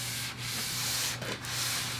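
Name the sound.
wet sanding car body, 600 grit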